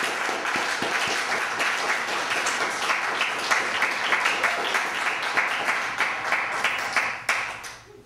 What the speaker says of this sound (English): let's give this sister another great round of applause